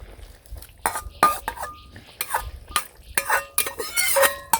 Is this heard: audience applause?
no